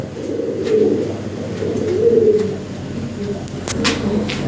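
Lahori pigeons coo in low, repeated rolling calls, close and clear, with a few light knocks and rustles around them.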